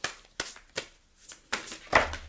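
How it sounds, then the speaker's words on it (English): Oracle cards are shuffled by hand in five or six quick, papery bursts with short pauses between them, close up, with no talking. "So I'm just going to shuffle"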